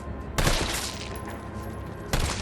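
Pistol gunfire in the Resident Evil 3 video game: two loud, sharp shots about 1.7 seconds apart, each followed by a ringing tail over a busy game background, with no talk.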